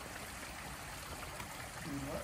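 Water streams and trickles off a defective shade sail in a steady outdoor pour, with a faint voice briefly near the end.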